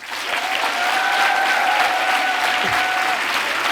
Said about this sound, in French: accueillir sous une salve d'applaudissements Alice Rebaud et Céline Sciamma